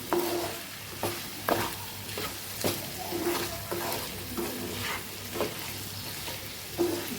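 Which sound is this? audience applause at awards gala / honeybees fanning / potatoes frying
potatoes frying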